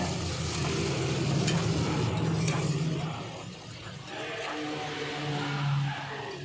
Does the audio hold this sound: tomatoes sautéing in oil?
yes